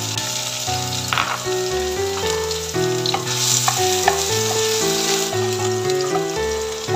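Onion fries in hot cooking oil in a pan while sabat masoor daal is being made, giving a steady, continuous sizzle beneath loud background music.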